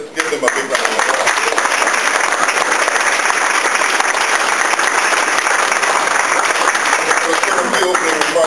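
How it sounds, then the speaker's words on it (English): Audience at a 2012 candidates night gives a big round of applause, dense and steady clapping from many hands that runs continuously at a loud, even level throughout. "Give them a big round of applause."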